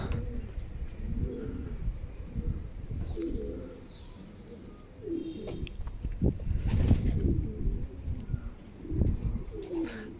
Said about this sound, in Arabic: هذا هو الحمام ديال الفوق